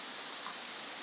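Steady rain falls by a muddy canal near a rural house, a dense even hiss of drops with no voices and no distinct breaks.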